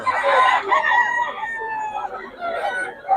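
Roosters crow loudly and close on a farm, overlapping calls with some clucking mixed in, filling the whole moment.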